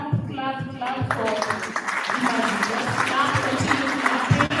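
Conference audience at a public finance management event applauding in a steady, dense wash of clapping, with a voice talking over it at the start.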